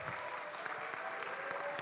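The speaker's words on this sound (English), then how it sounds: "Please, a round of applause to Lillian." An audience at a tech conference session applauds a named participant, a steady patter of clapping from a moderately distant crowd that holds for the whole stretch with no talking.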